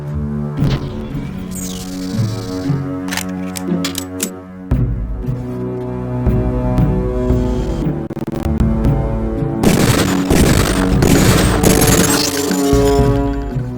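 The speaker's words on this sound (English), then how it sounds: "Release the first target and take a few shots with one of the pistols until it is destroyed." Deus Ex training mission: a pistol fired repeatedly at a practice target until it breaks, sharp shots followed by a loud burst of shattering over a steady electronic music bed.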